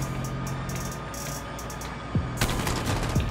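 Gunfire in a first-person shooter video game, with a steady mechanical hum and a few sharp shot bursts near the end, including a burst of rapid fire.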